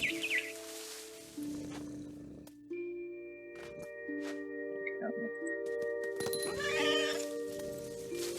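Game cat meowing and caterwauling in What Remains of Edith Finch, several drawn-out cries over a steady tonal music bed, with bird-like chirps and louder bursts near the end.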